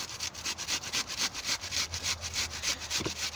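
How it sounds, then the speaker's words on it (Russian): Onion rubbed against a coarse grater in a steady back-and-forth rhythm, about four quick rasping strokes per second, close and fairly loud with no talking. "Теперь трем туда лук"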